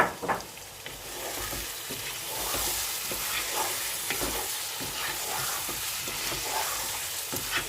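Minced meat keema fries with potatoes and newly added peas, a loud continuous sizzle broken by repeated scraping and stirring strokes of a spoon in the pan, close and without talking.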